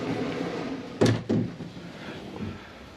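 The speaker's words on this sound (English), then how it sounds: "So it's just a button, pull it off, close the door." Two quick solid thuds as the door of a 2021 Jayco Eagle 284BHOK travel trailer is pushed shut and latched, close by, followed by quiet.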